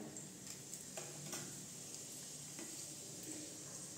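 Whole cumin seeds sizzle in hot mustard oil in a wok, a soft steady frying hiss with occasional faint pops and stirring clicks, close and quiet.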